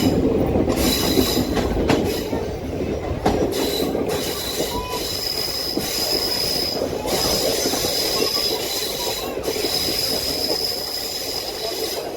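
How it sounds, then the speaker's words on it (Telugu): The Simhadri Express pulls out of Rajahmundry railway station with a loud, steady rumble of rolling wagons, occasional clicks over rail joints and thin, sustained wheel squeals. "మన ట్రైన్ బయలుదేరింది రాజమండ్రి రైల్వే స్టేషన్ నుండి"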